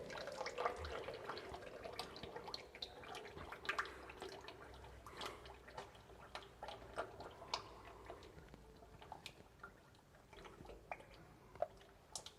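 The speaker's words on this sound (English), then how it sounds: "then all the old engine oil will drain from here" Old engine oil drains from the filter of a KamAZ truck, dripping and trickling in an irregular patter of small splashes at close range, fairly quiet and without speech.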